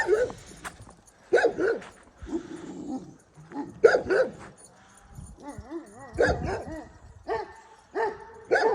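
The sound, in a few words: Kangal puppy barking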